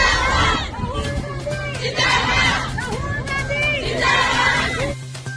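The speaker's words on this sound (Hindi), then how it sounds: "सड़क के दोनों तरफ कतारों में महिलाओं की भीड़" A crowd of people, many of them women, lines both sides of a street in Manipur awaiting Rahul Gandhi, with excited shouts and cheers rising in loud waves over constant babble of voices.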